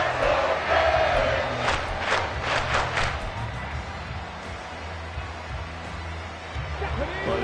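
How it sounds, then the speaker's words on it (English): A football stadium crowd at a Dolphins game roars loudly and steadily, with rising bursts of cheering over the first few seconds before settling into a sustained, dense wall of noise. "this crowd is making an impact right now"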